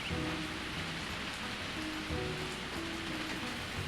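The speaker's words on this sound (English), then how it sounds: "It's a freaking deluge out here now." Heavy rain in the video game Harvest Moon: A Wonderful Life, a dense, continuous hiss of falling water with steady spatter and faint low tones of game music underneath, without any voices.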